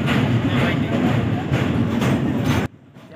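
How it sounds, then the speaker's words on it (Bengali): A passenger train runs along the track at night, its steady low rumble and rhythmic clatter loud and close, filling the clip until it cuts abruptly to quieter background near the end. "তারপর ট্রেনটা আবার অন্ধকারের মধ্যে চলতে শুরু করলো।"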